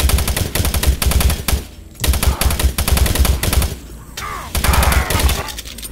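Rapid automatic gunfire in Doom 3, loud bursts of rattling shots separated by short pauses, with other game sounds in the gaps.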